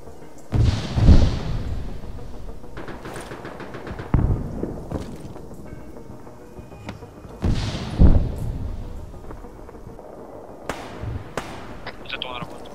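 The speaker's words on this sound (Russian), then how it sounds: "Этот выстрел мой громкий для вас?" Sharp gunshot bangs in the video game ArmA 3 go off a few times, spaced apart, with speech and background noise in between.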